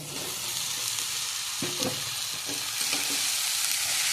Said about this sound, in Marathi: याच्यामध्ये आपण आता घालणार आहोत कट केलेली भेंडी